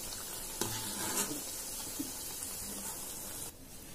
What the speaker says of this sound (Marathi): याच पद्धतीने आपण बाकीच्या अळवड्या देखील तळून घेऊया.